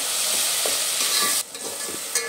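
Tomatoes cook in a pan for a mutton masala, a close, continuous sizzle with light stirring scrapes, dropping abruptly quieter midway before a brief flare of sizzling returns.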